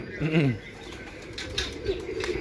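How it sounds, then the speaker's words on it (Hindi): Racing pigeons released at a Lahore pigeon-flying championship give a brief burst of wing flapping near the start, then softer flutters and faint coos over a quiet background, with a voice talking at moments. "ये वो तमाम कबूतर हैं जो उड़ाए गए हैं"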